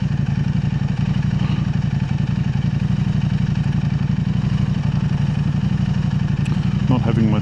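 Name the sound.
KTM 890 Adventure R motorcycle with Arrow exhaust system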